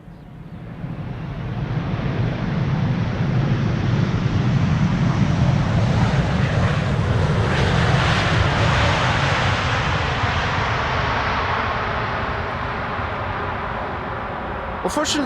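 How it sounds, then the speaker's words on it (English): An Airbus A380 jet roars steadily as it lands at Amsterdam Schiphol Airport with idle reverse thrust, a broad loud rumble and hiss that swells and slowly fades, with no voices. "let's have a look at the Emirates A380 landing here at Schiphol Airport."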